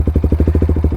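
A 2024 Bajaj Pulsar NS200 with a full-system Akrapovic aftermarket exhaust idles up close, giving a loud, deep, evenly pulsing exhaust beat with no talking over it.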